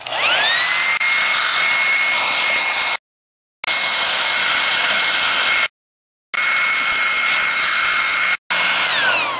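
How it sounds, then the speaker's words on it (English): Hairdryer blowing steadily and loudly at close range, a constant whooshing roar with a high motor whine, switched off briefly twice and restarted, no one talking. "you wrap it around the hairdryer, and then you turn it on"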